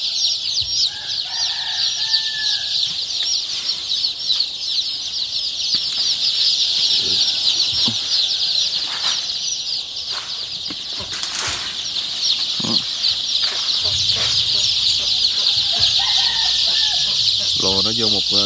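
Dense chorus of many young chicks peeping continuously in a poultry brooder house holding about 4,800 birds, a steady loud high chirping mass with occasional wing flaps and bumps close by.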